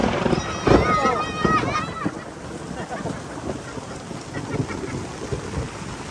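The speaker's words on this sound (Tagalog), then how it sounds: "Lakas ng ulan." Heavy rain pours at a riverside family campsite, a dense continuous hiss with gusty bursts, while people talk and call out over it near the microphone.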